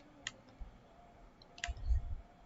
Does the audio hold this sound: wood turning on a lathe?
no